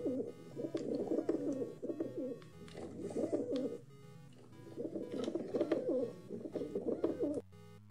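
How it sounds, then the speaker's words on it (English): A rock dove, the common pigeon, coos in repeated throaty phrases, two long runs of soft rolling calls with a short gap between, close and clear. "If you hear a bird call like this one here, then you have become a hangout spot for the local pigeon community."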